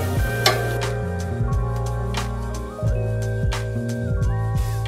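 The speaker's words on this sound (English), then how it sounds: "Over here burning the shrimp." Shrimp fry in a hot pan, a steady close sizzle with scraping and stirring clatter, while music plays loudly underneath throughout.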